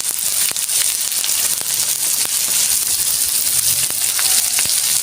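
Shiuli leaves fried in hot oil with turmeric and Kashmiri chilli powder, a loud continuous hiss and sizzle with occasional crackles and stirring scrapes.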